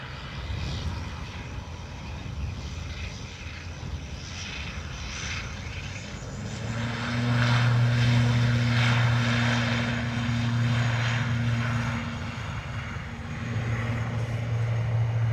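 Aircraft engines building to a steady droning roar as a plane takes off from runway 10 right at Dublin Airport, heard from a distance and swelling in loudness midway.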